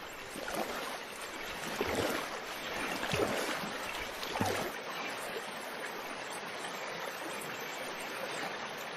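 Water swishes and splashes as a boat moves through it, in a Bengali cartoon scene on a pond with water lilies, a continuous gentle churning with a few louder sloshes.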